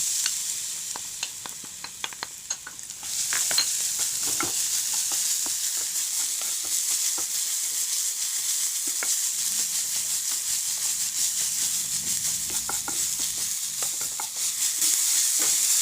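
Masala paste sizzles steadily in a hot pan with little oil while being stirred, a continuous bright hiss dotted with small crackles and occasional scraping taps, close and alone without any talking.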